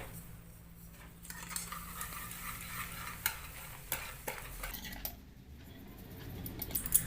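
Semolina (suji) batter mixed in a bowl, with soft wet scraping and occasional spoon taps against the bowl, close and fairly quiet, no talking.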